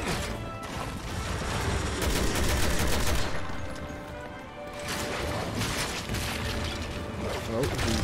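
Gunfire in the Resident Evil 6 video game, rapid volleys of shots and crashing impacts in bursts over a constant rumbling background, with someone talking over the action.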